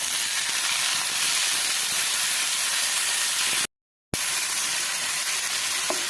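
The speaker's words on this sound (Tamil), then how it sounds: "இப்போ நம்ம தக்காளி சேர்த்து வதக்கலாம்." Tomatoes sautéed with fried onions in a hot pan give a loud, continuous steamy sizzle and hiss, briefly cut by a short silence before the sizzling resumes.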